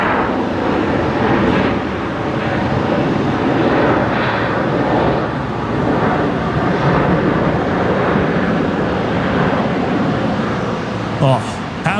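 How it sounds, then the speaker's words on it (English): A Velocity airliner inbound from Melbourne lands at night at Brisbane Airport with reverse thrust, a broad, steady roar heard from a distance that holds at a constant level throughout, with a brief knock near the end. "how good's the reverse thrust action there from Velocity 333 coming in from Melbourne"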